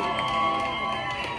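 An excited crowd at a Memphis event cheers and whoops in a steady, loud roar for a moment, with voices shouting over it.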